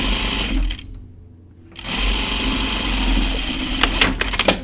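A sewing machine top stitches a jacket in a close, steady whirr, pausing briefly near the start before resuming, with a few quick ticking clicks toward the end.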